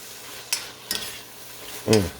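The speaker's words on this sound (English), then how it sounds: "Stir them around like that. Let them onions get translucent." Onions frying in a pan while being stirred, a quiet sizzle with a few short scraping strokes, close and fairly faint.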